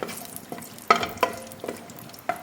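Cashews and raisins fry in a pan for pulao, giving soft crackling sizzles with a few sharper stirring scrapes and pops, close and fairly quiet.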